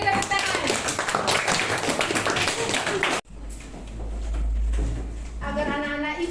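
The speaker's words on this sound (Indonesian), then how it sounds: "Beri tepuk tangan." Classroom applause from students after a group presentation, a dense burst of close clapping for about three seconds that cuts off abruptly, followed by murmuring voices and a low hum.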